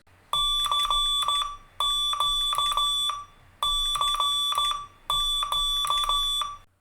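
Morse code tones spelling CQ, the general radio call to any station, in steady beeping groups of short and long tones repeated four times, loud and clear with no talk.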